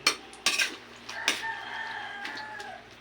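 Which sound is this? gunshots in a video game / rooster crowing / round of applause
rooster crowing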